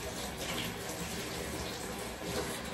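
Water runs steadily from a tap or hose while a car is being washed, a dense continuous hiss and splash, close and even throughout.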